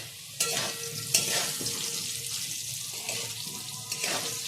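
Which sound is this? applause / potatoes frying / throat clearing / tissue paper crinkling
potatoes frying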